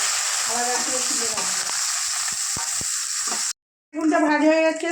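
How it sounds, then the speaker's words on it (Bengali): Long eggplant slices frying in hot oil, a loud steady hiss and crackle close up, briefly cut to silence before a fresh burst of sizzling resumes. "বেগুনগুলো দিয়ে দিচ্ছি আলাদা করে বেগুনটা ভেজে দেবো"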